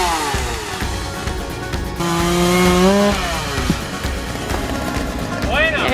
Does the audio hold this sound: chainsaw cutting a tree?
yes